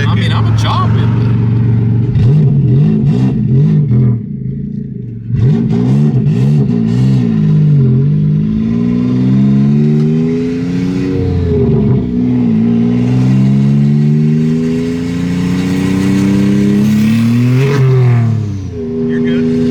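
A turbocharged LFX V6 swapped into a Volvo wagon revs hard again and again, with rising and falling engine pitch, loud and close, and brief drops between the throttle blips. A voice talks over the engine noise.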